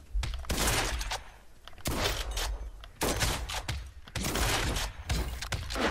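Gunfire in the video game Realm Royale, repeated loud bursts of shots in several clusters about a second apart, sharp and close with brief gaps between volleys.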